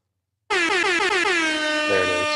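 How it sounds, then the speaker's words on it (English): After a moment of silence, a loud air horn blasts in a single sustained, bright blare that pulses slightly before holding steady. "All right, try the air horn."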